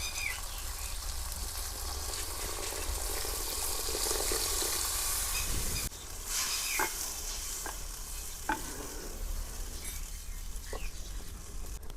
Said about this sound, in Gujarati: હવે આપણે એમાં પાણી નાખી દેવી.